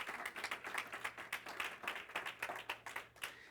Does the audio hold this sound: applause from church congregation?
yes